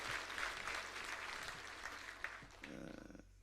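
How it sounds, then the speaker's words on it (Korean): A church congregation at a Sunday worship service applauds the choir, a dense clapping patter that thins out and stops as a low hum and faint sounds take over at the end. "크게 격려의 박수 좀 해주세요."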